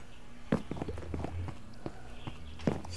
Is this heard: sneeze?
no